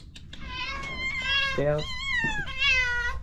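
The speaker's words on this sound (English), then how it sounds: "Look at all these kitties trying to come in." Several cats meow insistently at a door, overlapping rising and falling cries close by, while a person speaks briefly over them.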